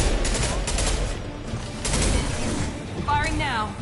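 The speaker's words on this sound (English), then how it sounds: "Firing now." Gunfire rattles in Mass Effect 2 in clustered bursts of rapid shots under game sounds, with voices talking over parts of it.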